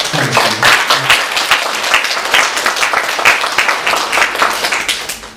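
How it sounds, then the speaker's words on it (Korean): A church congregation claps for members' birthdays during a Sunday service, a loud, close burst of many hands applauding steadily throughout, with no talk over it. "다 같이 박수로 축하하겠습니다."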